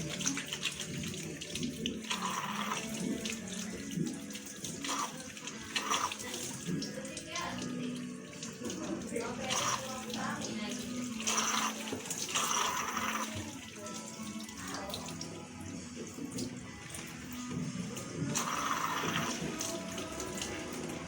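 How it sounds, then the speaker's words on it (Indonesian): Steady running tap water with splashing and rubbing of hands beneath the stream during six-step clinical handwashing, continuous throughout with no talking. "mencuci tangan 6 langkah di bawah air mengalir"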